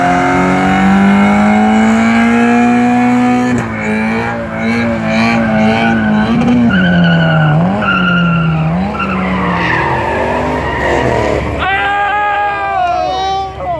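Long, loud squeal of a Subaru BRZ's tires skidding as it loses control, the pitch sliding and wavering as the car slides, ending in sharper screeches and engine noise.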